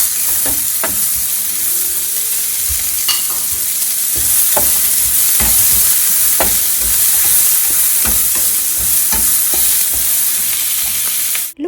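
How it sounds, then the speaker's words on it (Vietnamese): Tofu and mushrooms stir-frying in a pan, a loud steady sizzle and hiss throughout with scattered scraping and tapping of a utensil stirring, close up and without talk. "Mình xào đến cho đến chừng nào mà nó vàng thơm á"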